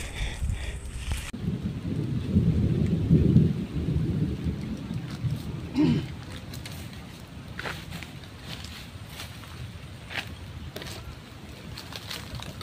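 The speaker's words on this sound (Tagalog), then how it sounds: "Tsaka kulog eh. Tsaka yun na ulan no." A low rumble of thunder rolls through the first half over a steady hiss of falling rain, which continues alone afterward.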